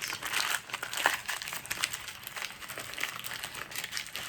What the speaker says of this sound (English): And now we're going to turn it inside out.